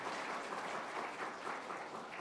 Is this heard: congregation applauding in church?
yes